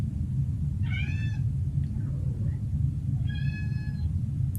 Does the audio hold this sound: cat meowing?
yes